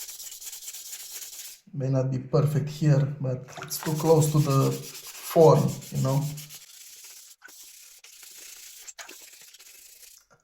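Sandpaper rubbing a restored Nokia 3650 phone casing smooth, a continuous close scratchy hiss that runs throughout, with a person talking over the middle part.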